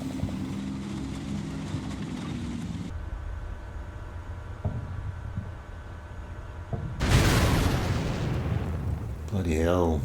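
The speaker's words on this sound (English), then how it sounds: "Bloody hell, Russian tank fire hits hard." Russian tank fire in the war game Combat Mission Black Sea sends heavy booms and explosion blasts through a rumbling battle soundscape, with a loud impact near the end followed by debris and ringing.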